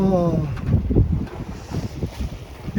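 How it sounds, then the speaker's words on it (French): Strong wind at sea on the Mediterranean, roughly twenty knots, buffeting the microphone in heavy low gusts from a small sailing boat, with a brief voice at the start and rough water under the wind. "Le vent est toujours aussi fort."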